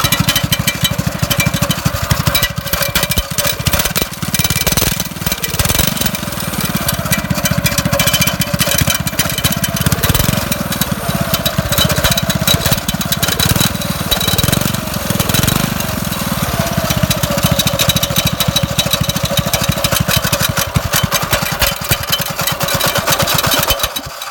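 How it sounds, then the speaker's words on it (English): Several small engines run steadily and loudly with a rough, rattling drone and the slapping clatter of loose drive chains throughout, with no pauses. "But I'll fire the engines up so you guys can see it."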